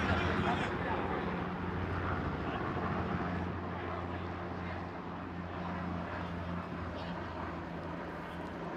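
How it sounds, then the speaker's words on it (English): A helicopter passes overhead above a professional soccer match in Tampa, heard as a steady low droning rumble that sits beneath continuous commentary and faint stadium crowd noise. "Sounds of the game and a helicopter overhead in Tampa."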